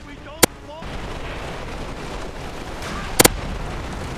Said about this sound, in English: 3 more of our tank crew take direct hits from the German tank cannons